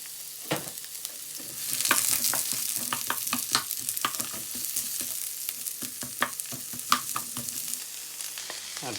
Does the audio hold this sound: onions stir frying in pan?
yes